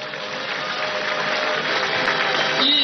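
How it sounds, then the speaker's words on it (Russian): Audience applause at an agricultural day concert, a dense, steady wash of many hands clapping that swells slightly toward the end, loud and continuous. "Аплодисменты!"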